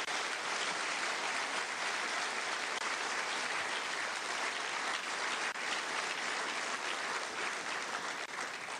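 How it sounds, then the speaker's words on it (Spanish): Steady applause from a crowd at a political event in Bolívar, honoring comandante Fidel Castro, sustained and even throughout with no clear voices. "pido un aplauso desde acá"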